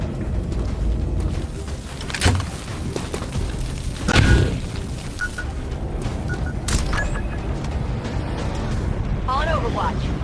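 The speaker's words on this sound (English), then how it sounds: "Grenade!" Grenade explosion in the game XCOM 2, heard as a dull boom near the middle of the clip over a steady ambient game bed, with a few small electronic tones around it.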